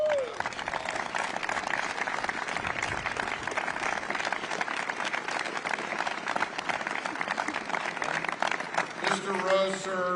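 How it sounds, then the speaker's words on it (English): A large outdoor crowd at a D-Day anniversary event applauds World War II veterans with dense, continuous clapping lasting throughout, with voices faintly mixed in near the end. "Let's give them all a round of applause."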